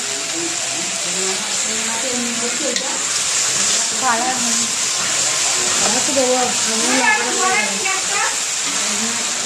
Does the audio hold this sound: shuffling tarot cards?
no